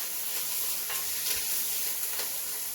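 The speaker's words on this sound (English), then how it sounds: "Mix that around a little bit in my pot" Cajun stew with habanero pepper being stirred in a pot on the stove, giving a steady close sizzle and hiss with soft scraping strokes and no talking.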